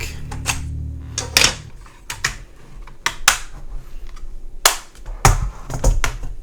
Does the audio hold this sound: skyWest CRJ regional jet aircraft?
no